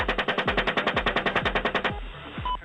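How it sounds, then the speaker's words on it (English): Rapid machine gun fire from a U.S. Apache helicopter over a Baghdad street in Iraq, a steady burst of about twenty loud rounds that stops abruptly, leaving faint background noise. "It shows a U.S. Apache helicopter crew in Iraq opening fire on a group of suspected insurgents who were standing on a street corner in Baghdad."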